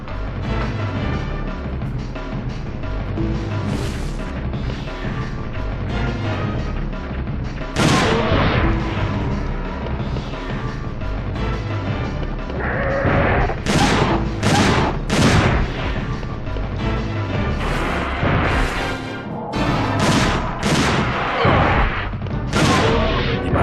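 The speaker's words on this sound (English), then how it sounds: "by pressing the X button we can fire at those dinosaurs, and usually you will fire on target" Gunfire aimed at dinosaurs in the PlayStation game Dino Crisis 2, with repeated loud shots and bursts over a continuous dense game soundtrack, heaviest in the second half.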